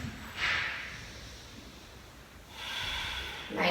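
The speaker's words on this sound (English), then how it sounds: "Taking 2 more full deep breaths." Deep breaths held in a yoga plank position during a vinyasa flow class, two long airy exhalations a couple of seconds apart, close and soft with quiet room tone between them and no talking.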